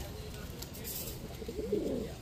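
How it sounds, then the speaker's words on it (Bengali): Club pigeons at a pigeon market in Narayanganj give a soft, throaty coo near the end amid low background murmur and handling noise. "এই যে দেখেন নারায়ণগঞ্জের সবচেয়ে বড় ক্লাবের কবুতর"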